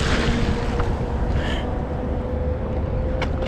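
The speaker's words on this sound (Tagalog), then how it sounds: "Uy, malakas yung hangin." Strong wind blusters at the water during fishing, a loud continuous rush with buffeting against the microphone and water noise beneath, no talk.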